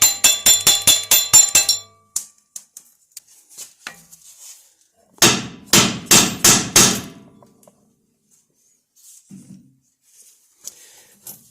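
A hammer tapping the tapered joint on a Jeep TJ axle during a lift kit install, two quick bursts of about six to eight ringing metallic strikes, then a few scattered lighter taps with quiet gaps between.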